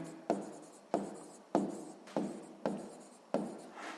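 A pen or pencil scratches across paper by hand while a sixth-grade math answer is written out: six distinct, close stroke bursts in a steady rhythm, each starting sharply and fading, with no one speaking.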